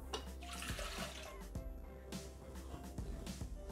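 Water poured into a Thermomix (Bimby) mixing bowl, a continuous close splashing pour with faint clinks over a low steady hum.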